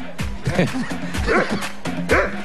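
A tethered dog barks and yips in quick bursts, three sharp close calls with whiny edges, while people talk nearby.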